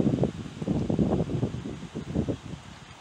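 Wind buffeting a microphone outdoors during a Saint-Jean-Baptiste mass, loud rumbling gusts in irregular pulses, close and constant with no voices.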